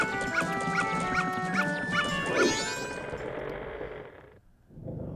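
Dog barks from the Zelda: Majora's Mask video game, several short repeated yelps in a steady rhythm over game music, loud and close, ending as the music fades.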